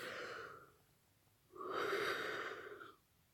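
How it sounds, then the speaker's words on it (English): A voice performs a quiet yawn: a short breathy intake, a pause, then a longer drawn-out, airy exhale lasting about a second and a half, heard alone and close. "Had a little yawn."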